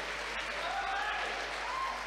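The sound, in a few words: audience applause for ninja competitor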